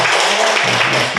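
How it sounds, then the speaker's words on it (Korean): Church congregation clapping in praise, a dense, loud burst of many hands applauding together, close and continuous for a short moment. "우리 하나님 감사 박수 영광 올리겠습니다."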